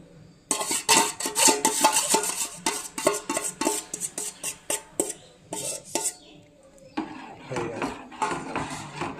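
A spoon scrapes and clanks in a pot as milk pudding (payesh) with date-palm jaggery is stirred, in a fast run of close metallic knocks that slows after a pause.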